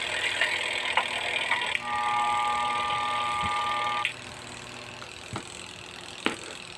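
A spin dryer motor powered on but not turning hums with a steady buzzing drone, then drops off abruptly, leaving a quiet background with a few scattered clicks.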